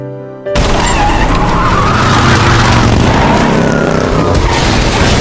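Car tires skidding hard to a stop during a police chase scene in a crime action film, a loud sustained screech with heavy rumbling impact noise, starting abruptly after a brief quiet moment.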